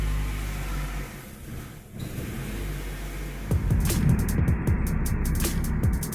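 A 2000 Nissan Altima engine idles after a knock sensor replacement, a steady low rumble that grows louder and rougher partway through, with clicking and rattling handling noises near the microphone.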